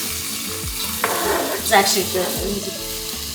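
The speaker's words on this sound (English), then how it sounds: "It's gonna sizzle" Onions frying for Nigerian jollof rice sizzle steadily and loudly in a hot pan, with stirring scrapes partway through and someone speaking briefly over the sizzle.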